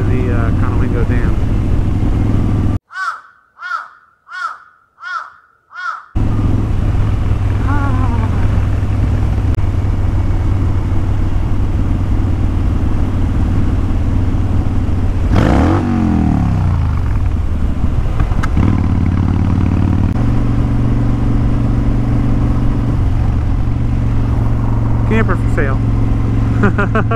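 A custom-built trike rides along a road with a steady, loud engine drone and wind rumble, the pitch shifting as it changes speed, with a brief burst of pulsing revving and a rider talking over it.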